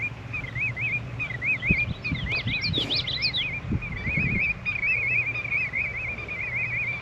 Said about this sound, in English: those birds that are making all the noise are the willets